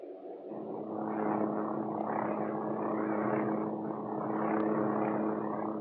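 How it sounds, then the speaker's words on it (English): Hughes OH-6 Cayuse light helicopter in flight, a steady close rotor and turbine drone with a constant low throb and buzzing hum holding level throughout, no voices. "The OH-6 cruise speed is fast compared with other light helicopters."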